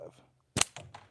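A sharp gunshot cracks once at a nearby outdoor range as a shooter fires on the 25 target, followed by a couple of quicker, softer reports or echoes trailing off.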